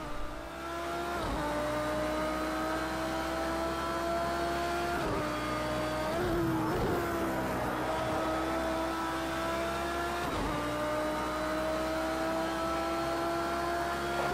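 GT3 race car engine at Hockenheim in a racing video game, a loud sustained drone climbing in pitch through the gears with several sharp shift drops, held close and constant throughout a qualifying lap, no speech.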